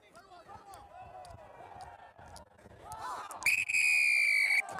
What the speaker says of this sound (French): j'ai sifflé avant que vous arriviez